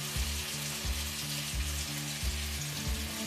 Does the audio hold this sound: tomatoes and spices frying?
yes